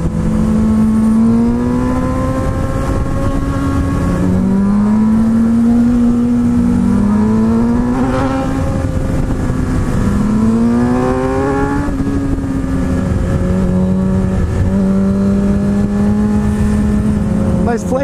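Motorbike engine in a video game revs repeatedly, its pitch rising and falling in several swooping sweeps, loud and close, with a voice talking over it.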